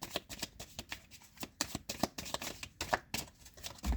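Tarot cards being shuffled by hand: a run of quick, papery riffles and flutters, close and fairly quiet, with short pauses between bursts and no talking.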